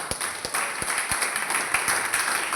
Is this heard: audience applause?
yes